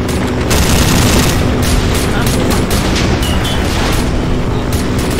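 An M4 assault rifle fires in Minecraft, a dense stream of rapid, loud gunshot bursts over a continuous rumbling backdrop with no pauses.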